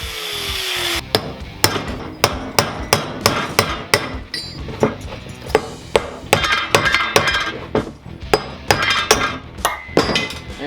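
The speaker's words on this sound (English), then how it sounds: "just enough to weaken it that we can shock it with a chisel and pop it off." Hammer blows on a chisel driven against a Subaru wheel bearing race, about twenty sharp metallic strikes in an irregular rhythm, close and loud, ringing briefly after each hit, with no talking.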